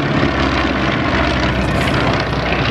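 A multi-engine propeller aircraft, originally built as a four-seat airliner, flies past at the Wanaka air show, giving a loud, steady, close engine and propeller roar with no talk.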